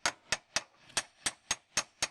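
Eight quick, sharp metallic taps in a steady rhythm, close and fairly loud, a hammer striking a metal side step bracket on a Land Rover Freelander 2.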